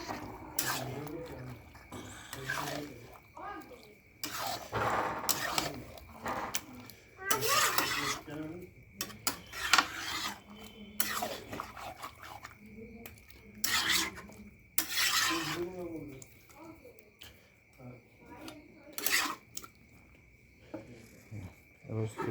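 Marinated chicken sizzles in a pot on the stove, with repeated bursts of a spoon scraping and stirring against the metal over a constant faint high whine, and a voice talking between the stirs.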